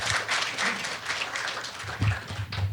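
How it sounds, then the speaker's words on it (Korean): Audience applause at a Korean energy forum on natural gas and geopolitical crisis, greeting an economics professor taking the stage; a steady, dense wash of clapping from a hall crowd, fairly loud throughout. "힘찬 박수로 이서진 교수님을 맞이해 주시기 바랍니다."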